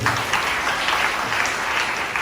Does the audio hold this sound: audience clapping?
yes